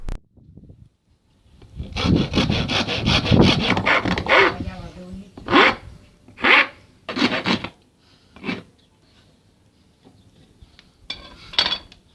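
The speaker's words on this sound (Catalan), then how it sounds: "Començarem a fer la forma del mànec amb la llima." A rasp file shapes a wooden training-knife handle, giving a sustained rough scraping run followed by several separate short strokes, close and clear, with no talking.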